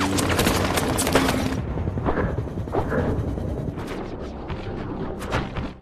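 Gunfire in a naval combat scene from the film Hunter Killer (2018): dense, loud rapid bursts and booming shots roll continuously, thinning slightly toward the end but staying heavy throughout.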